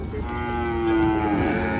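A water buffalo (carabao) at a livestock market gives one sustained, close, loud low moo lasting almost two seconds, with no voices over it.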